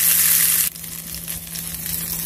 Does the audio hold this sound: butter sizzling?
yes